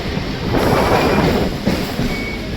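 Chennai MRTS suburban train pulling into Light House station, a loud steady rumble of wheels and carriage noise with a few clanks, heard from on board without talk.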